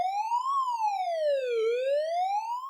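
A synthetic siren sound effect in the style of an ambulance plays loudly and alone, its single wailing tone sweeping up, down and back up in one smooth cycle.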